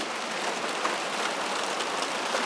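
Steady rain falls, a dense, even hiss of drops hitting surfaces with no pauses.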